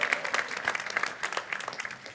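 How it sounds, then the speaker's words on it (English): Audience at an international forum against racism and discrimination breaking into applause, a dense steady patter of many clapping hands in a large hall, lasting throughout. "Now I'm expecting you to cheer."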